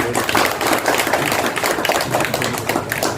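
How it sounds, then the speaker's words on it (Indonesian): Dense applause from a gathering in an RW 11 neighbourhood during a pandemic-era democracy event, steady clapping throughout with some voices mixed in. "Tepuk tangan Bapak Ibu sekalian."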